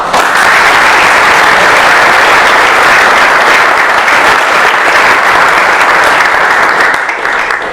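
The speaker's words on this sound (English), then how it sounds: "I think they deserve a round of applause" A community event audience applauds its local partners with a steady, dense round of clapping that stays loud and even for several seconds before tapering slightly at the end.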